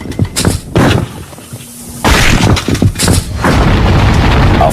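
Cannon fired at a bowling ball: loud, heavy booms and blasts with rumbling bursts, followed by a sustained roaring wash of noise.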